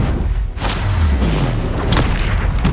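Bombarda and Confringo explosion spells in the video game Hogwarts Legacy burst as a series of deep, loud booms and thumps over rumbling combat noise, with sharp blasts spaced around a second apart.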